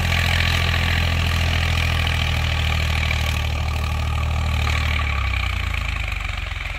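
A Sonalika DI 745 tractor, a 2024 model, runs at a steady, loud idle, with a deep continuous diesel throb that eases slightly toward the end and no talking.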